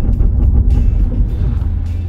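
A 4x4 in low range, second gear, crawling up loose rock with the centre diff locked, its engine a steady loud low rumble mixed with crunching and grinding from the ground, continuous throughout.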